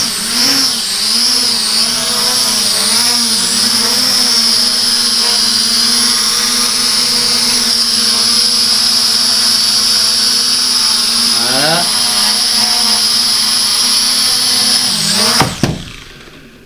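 A LOOLINN X23W toy drone's motors and propellers spin up indoors, a loud, steady high whine with wavering pitch that holds for most of the stretch, then cuts off abruptly near the end.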